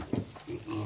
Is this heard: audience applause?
no